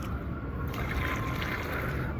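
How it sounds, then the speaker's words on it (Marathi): Water poured into a small tin container, a steady trickling, splashing stream that runs unbroken and fairly near, heard alone without voices. "आता या डबड्यात थोडं पाणी टाकू"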